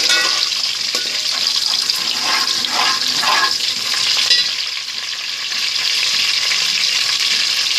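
Almonds and pistachios fry in hot oil toward golden brown for sweet zarda rice, a loud steady sizzle with bubbling crackle and a little stirring.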